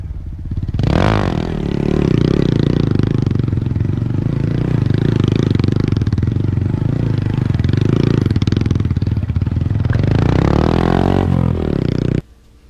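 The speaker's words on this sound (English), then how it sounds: "the circle wheelies on John's Moto Garage" A motorcycle holds a loud, steady engine drone while circling on its rear wheel in wheelies, rising at the start and swelling again near the end before cutting off.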